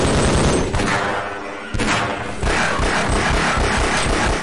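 Weapons firing in the game Half-Life, loud, dense rapid bursts of gunfire that break off briefly and then resume, continuous and close.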